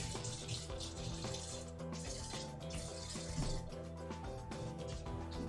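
Cold water runs steadily from a kitchen tap while a starch slurry for stroganoff is being mixed, a continuous close splashing stream with faint clinks and no talking.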